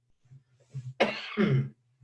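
A single short cough, close and fairly quiet, with a throat-clearing sound, over a faint low hum.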